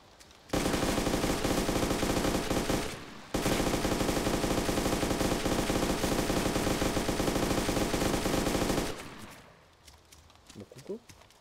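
Sustained automatic gunfire from the video game Arma 2 DayZ Epoch rattles loud and continuous in two long bursts separated by a short pause, followed by quieter scattered sounds.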